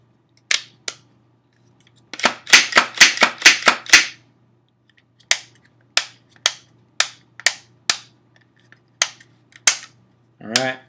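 Reassembled Beretta CX4 Storm .45 ACP carbine being function-checked: a rapid run of about eight sharp mechanical clicks and snaps, then slower spaced single clicks with pauses, close and crisp in a quiet room.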